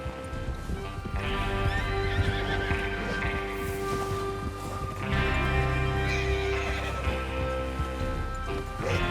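Horses gallop in the Western video game Red Dead Redemption 2, a steady rush of clip-clopping hooves with an occasional whinny, close and loud under a continuous layer of tonal music.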